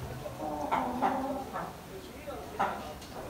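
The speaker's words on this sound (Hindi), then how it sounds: "ये वो वाला मुर्गा है" A rooster in a home pet setup gives several short clucks and calls in scattered bursts, moderately close, while someone talks over them.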